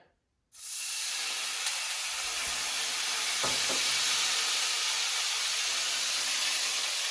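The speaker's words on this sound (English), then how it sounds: "let's deglaze this pan a little bit" A hot pan from cooking lamb is deglazed, releasing a loud, sustained steam hiss that bursts in suddenly and stays strong throughout, with a couple of faint clinks partway through.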